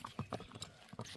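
An eight-year-old Karabair horse's hooves clip-clop in a quick, uneven run of close knocks over about a second.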